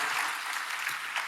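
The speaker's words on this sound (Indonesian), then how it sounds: "Tepuk tangan buat Tuhan kita Bapak Ibu yang dikasih oleh Tuhan" Church congregation applauding together in a brief burst of dense, steady clapping from many hands, fairly close and without any talking over it.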